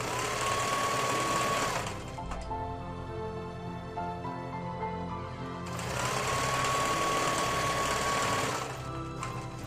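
A sewing machine hems a fabric pocket for an apron, running in two loud, steady bursts of fast mechanical whirring with a quieter pause between them, close up and without talking.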